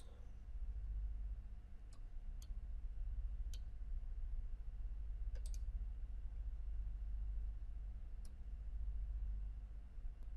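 Computer mouse clicks while snapping points with the shape tool in CorelDRAW: a handful of faint, sharp, irregularly spaced clicks over a quiet low hum.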